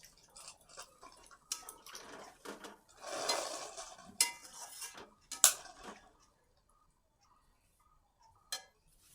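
Cauliflower cooked with a little water in a pan and stirred, producing scattered close metallic clinks and scrapes of a spoon against the pan, irregular for several seconds before falling almost silent apart from one last tap.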